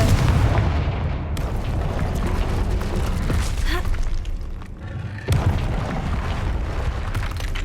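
Confringo blasting spells explode in Hogwarts Legacy, heavy booming blasts with rumbling crackle, loud and continuous, with a sharp fresh burst partway through.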